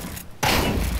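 Loud gunfire erupts from Counter-Strike 2 gameplay after a brief near-silent gap. A dense burst of shots fills the rest of the moment, close and harsh.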